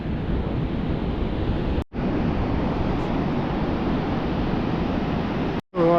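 Loud, steady ocean surf roars on a flat beach while fishing, a continuous wash of breaking waves with heavy wind buffeting the microphone and two brief dropouts.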